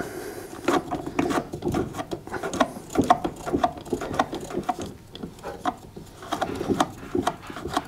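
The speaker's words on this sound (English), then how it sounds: "You can rest the socket set against the fan cover to help you undo the nut." Socket ratchet undoing a nut on a Zanussi tumble dryer fan, giving repeated close clicking ratchet strokes in uneven bursts, with scraping and rubbing of metal between the strokes.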